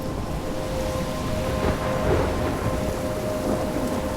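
Stormy night in a story-based mobile game: steady heavy rain hisses over a deep rolling rumble of thunder that swells midway, with a faint tonal hum beneath and no voices.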